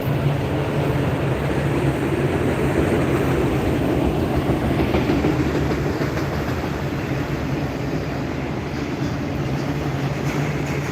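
A freight train rolls past in Ohio with a loud, continuous rumble and rhythmic clickety-clack of wheels on rail. It stays close and steady throughout with no talking.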